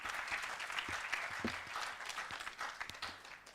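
Audience applause at a university debating championship in Kampala, a sustained broadband patter of many hands clapping with no talk over it.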